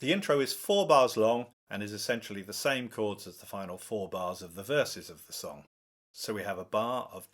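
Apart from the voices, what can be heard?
No everyday noises stand out.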